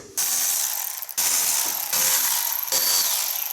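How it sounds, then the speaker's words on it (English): A hand ratchet removes 10mm bolts on a 2018-2020 Ford F150 during grille and headlight replacement, giving several close, rapid clicking bursts separated by short pauses, with no talking. "there's going to be 4 10mm bolts that you're going to have to remove"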